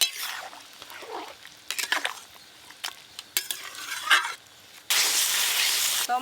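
Mutton being stirred in a pot with ginger-garlic paste and water, heard as irregular scrapes and clinks of a spoon against metal, ending in a sudden, loud, steady sizzle.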